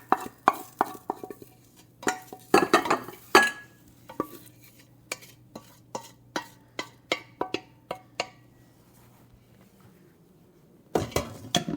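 Seared vegetables lifted out of an Instant Pot with a utensil, giving a series of close metallic clinks and scrapes against the pot, some in quick clusters and others spaced out, ending with a louder rattle of handling.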